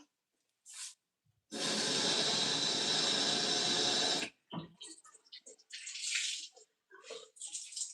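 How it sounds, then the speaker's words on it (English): Running water from a tap pours steadily for a few seconds as a washcloth is wetted during a face massage routine, followed by softer dripping, splashing and handling sounds of the cloth being wrung out, close and with no talking. "So we'll wet the washcloth again."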